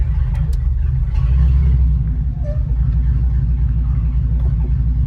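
A Mercedes 300SEL 6.3 engine runs with no exhaust fitted, a loud, close, heavy low rumble idling steadily with slight throttle variation throughout.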